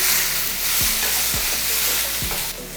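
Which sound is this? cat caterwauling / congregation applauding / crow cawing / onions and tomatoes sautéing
onions and tomatoes sautéing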